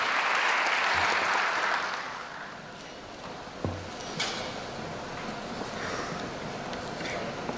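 Broad applause from the audience at a police officers' commissioning ceremony, loud at first and then settling into a softer wash.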